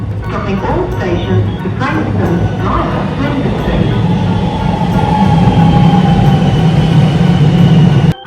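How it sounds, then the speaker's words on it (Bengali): Riding a metro train from Flagstaff station in Australia: a loud, steady interior rumble with rattling and a rising whine as the train picks up speed, ending abruptly. "ফ্ল্যাগস্টাফ মেট্রো স্টেশন থেকে আমরা ট্রেনে উঠেছি।"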